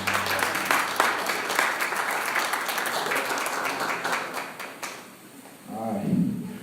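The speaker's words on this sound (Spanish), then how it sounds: "Dale un aplauso al Señor." A church congregation breaks into sustained applause that fills the first five seconds, loud and dense, then fades as a single voice begins speaking near the end.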